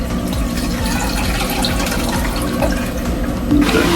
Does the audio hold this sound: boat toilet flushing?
yes